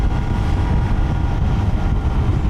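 Triumph Trident 800 three-cylinder motorcycle engine droning steadily while riding, a loud continuous low rumble mixed with heavy wind buffeting across the microphone, with no talking.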